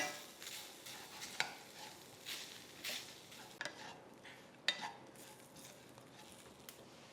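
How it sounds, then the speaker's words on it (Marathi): Dry coconut, crushed peanuts and sesame seeds are sautéed in a pan, with a faint, soft sizzle broken by occasional spoon scrapes and clicks as the mixture is stirred. "सुकं खोबरं, दाण्याचं कूट, हे सगळं व्यवस्थित आपण परतून घेऊ"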